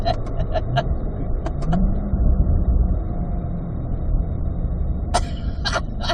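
A Corvette's engine runs while driving, a steady low rumble filling the cabin, with a few sharp clicks and a brief burst of noise near the end.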